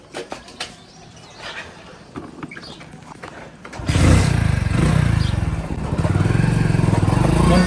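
A motorcycle ride home from a temple visit: a softer rumble of passing traffic first, then the engine swells into a loud, steady close-up drone that lasts to the end, with a brief dip partway through.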